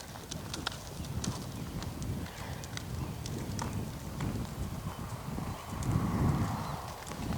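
A horse canters on arena ground during a riding lesson, hooves thudding in a muffled rolling rhythm at moderate distance, with bird calls and faint background noise around.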